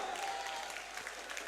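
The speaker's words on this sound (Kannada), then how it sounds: "ಸಖತ್ತು ಬರೀ ಚಪ್ಪಾಳೆ ಇವರಿಗೆ" A studio audience at a Kannada television reality show claps in a short, dense burst of applause that fades slightly toward the end.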